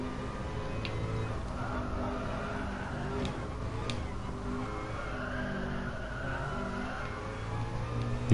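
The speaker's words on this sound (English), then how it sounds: "You can hear the tyres squealing from turning like so hard." In the racing game GT Sport, a car's tyres squeal through a hard turn, a thin, strained whine riding over a constant engine drone.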